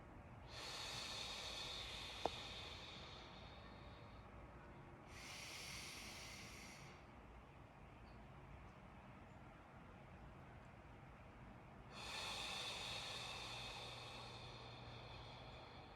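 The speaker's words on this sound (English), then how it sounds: "Then I breathe in. And I hold it, and then I exhale out." Slow, deep breathing repeats in three long, airy inhale and exhale passes separated by quiet pauses, faint and close against a soft background hiss.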